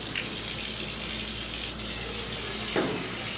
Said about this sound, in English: we have our gravity bucket here, and we will fill that with some warm water.